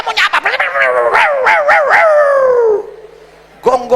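A voice imitates a dog barking and howling during a sermon, a rapid string of loud yelping barks that stretch into a long falling howl, then a short burst of barking after a pause.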